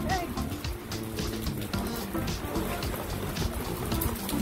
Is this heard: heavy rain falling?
yes